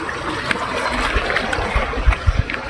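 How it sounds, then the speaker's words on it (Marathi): A swollen village stream rushes with plenty of water, a steady broad wash of flowing water with occasional splashes and gurgles close by. "आमचा वहाळ, त्याला पण खूप पाणी आलेलं आहे."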